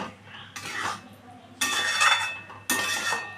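A utensil stirs spices into eggs in a pan, giving a few brief scraping and clinking strokes against the cookware, close and moderately quiet.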